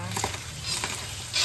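Garlic fries and browns in a pan with a steady, close sizzle and light crackle, while the pan is stirred briefly.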